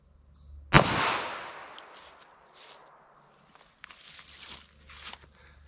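A Winchester Silvertip .22 Magnum round fires once as a single sharp, loud crack, followed by a decaying echo and then faint shuffling sounds nearby.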